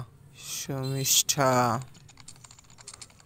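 Keys clatter on a computer keyboard in quick, light taps, while a voice speaks over the first half.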